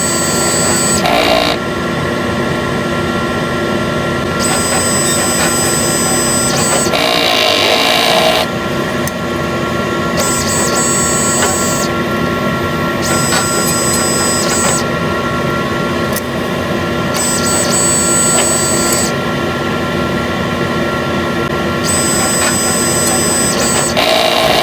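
A sublimation inkjet printer running its head cleaning cycle: a loud, steady mechanical whir and grinding drone that continues throughout, with high whines that switch on and off in repeated stretches.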